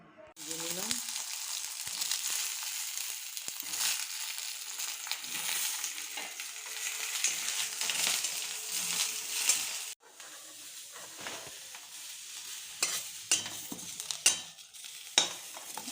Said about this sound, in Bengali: এবার মাছগুলি ভেজে তুলে রাখলাম থালায়।